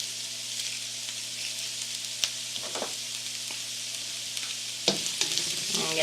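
Onion and garlic saute in a pan for a vegan mushroom stroganoff, a soft, steady sizzle with occasional louder crackles and stirring scrapes, quiet and close with no talk.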